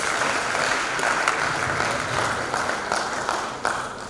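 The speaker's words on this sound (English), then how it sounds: "please give him another round of applause" A lecture audience applauds the chairman at a law faculty public lecture series, steady dense clapping filling the whole stretch at a fairly loud, even level with no talk.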